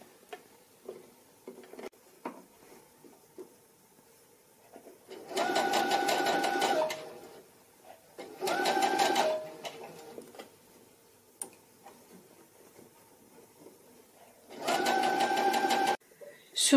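A sewing machine joins the first gathered ruffle to the bodice of a party dress in three short bursts of fast steady stitching, separated by quiet pauses with light handling clicks.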